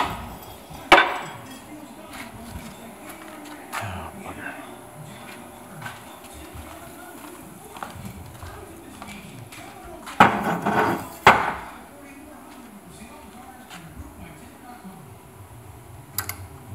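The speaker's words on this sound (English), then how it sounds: "Just tap it real easy with a hammer all the way around." A few sharp metallic hammer taps on a bearing seal ring out at irregular intervals, loudest in a close pair, with low murmuring talk and clatter in between.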